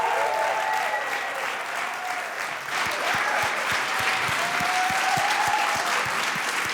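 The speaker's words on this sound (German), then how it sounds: "Nochmal einen riesengroßen Applaus für unsere Top 5 heute Abend" A large crowd at a song contest final gives loud, steady applause for the top five finalists, a dense wash of clapping with rhythmic low thumps joining partway through and continuing to the end.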